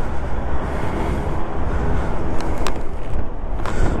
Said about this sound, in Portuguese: Hoje está muito vento, não sei o que é que se passa, está mesmo muito vento.